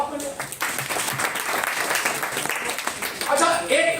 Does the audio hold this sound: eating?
no